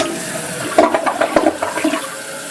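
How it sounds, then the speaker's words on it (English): A newly installed Kohler toilet flushes close by, a loud rushing swirl of water with gurgling bursts that surges and then begins to settle. "we've got filled up, and we're waiting to go through the first flush."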